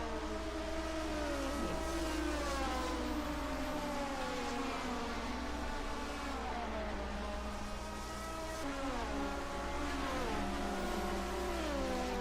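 Several 1980 BMW 320 turbo race cars climb uphill in a Division 2 race. Their loud engines rev and drone in overlapping waves, with pitch sweeping up and down through gear changes.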